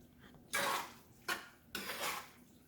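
A cup of cheese being stirred into spicy sausage pasta in a pot, a utensil scraping and clattering in three loud bursts with short pauses between, close and with no talk.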